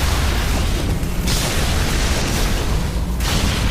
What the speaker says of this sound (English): We have secondary explosions in the engineering area.